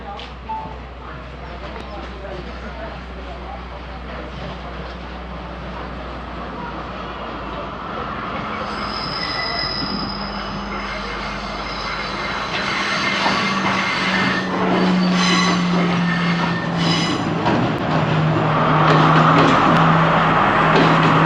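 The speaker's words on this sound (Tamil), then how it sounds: "ட்ரெயின்" A train passing on the railway at Ella, Sri Lanka, rumbling steadily and growing louder as it nears, with clattering and a rising hiss over a low drone through the later half.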